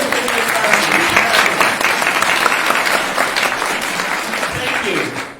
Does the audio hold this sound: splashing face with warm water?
no